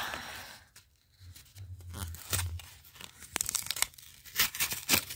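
A One Piece card game pack wrapper is torn open by hand, with faint crinkling first and then several sharp, close ripping bursts of plastic, the loudest near the end.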